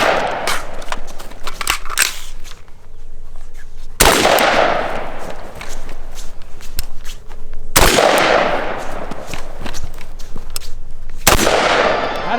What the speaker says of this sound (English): There's a headshot for you, Terry.